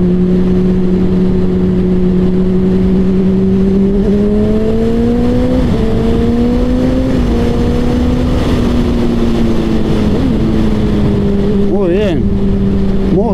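A Honda CBR 600RR sport motorcycle engine drones loudly at steady speed, its pitch rising and easing through shifts, with a few sharp revs near the end.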